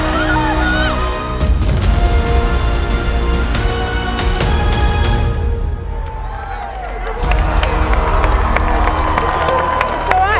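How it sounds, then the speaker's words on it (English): A dense crowd at a school swimming championship screams and cheers loudly throughout, with shrill young voices, a brief dip partway through, then a fresh surge of shouting. "I could hear everyone in the background just screaming, and I knew it was going to be a close race."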